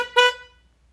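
A single short honk from the stock horn of a 2023 Honda CR-V, a brief bright tone that cuts off quickly and rings away in a quiet setting.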